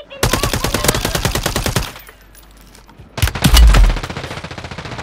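In a Call of Duty match, rapid automatic gunfire rattles out in a loud steady burst, stops for about a second, then comes back with a heavy thump and more rapid shots, all close and with no talk.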